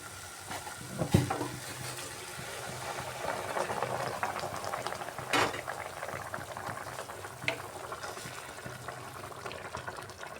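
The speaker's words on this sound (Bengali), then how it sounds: "মশলা কষানো হয়ে গেছে এবার আমি দিয়ে দিচ্ছি এর মধ্যে গরম জল" Hot water poured into sautéed spice masala for a patol dolma curry, a continuous bubbling hiss and seething boil with a few louder splashes and clinks, close and without talk.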